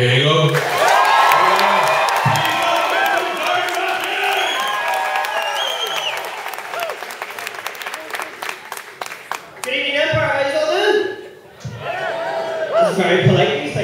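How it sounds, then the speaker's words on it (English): A comedy club crowd at the Belfast Empire bursts into a loud round of applause with cheers and whoops, then the clapping thins into scattered claps before a voice speaks over the fading crowd. "we're going to do the proper round of applause"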